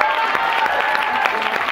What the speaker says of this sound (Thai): ปรบมือกับผู้โชคดีคนเดียวของเราด้วยครับ